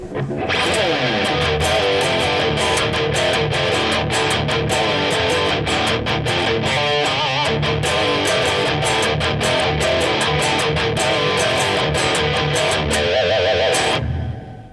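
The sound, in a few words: electric guitar riff in drop D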